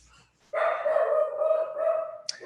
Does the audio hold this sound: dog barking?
yes